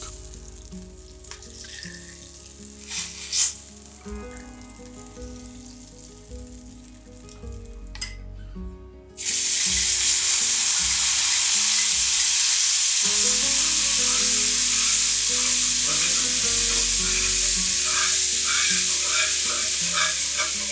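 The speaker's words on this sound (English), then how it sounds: "Place the skillet back over medium heat and add the reserved oil and minced garlic." Minced garlic hits reserved oil in a skillet over medium heat and bursts into a loud, steady sizzle that runs unbroken for over ten seconds, preceded by quieter clinks and stirring near the pan.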